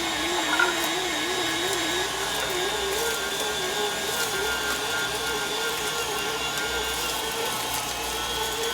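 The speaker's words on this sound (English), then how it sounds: "I'm going to pass this all through the meat grinder" An electric meat grinder runs steadily, grinding chicken and vegetables with a constant motor whine and a faint wobbling hum, heard alone at moderate volume.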